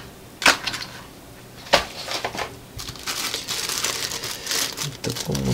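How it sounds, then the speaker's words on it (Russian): A cellophane bag holding a power bank is handled close up, giving two sharp crinkles followed by a steady run of rustling and crumpling, with no talk. "В таком вот у нас целлофановом пакетике приехала."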